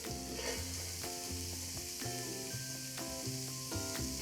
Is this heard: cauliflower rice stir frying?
yes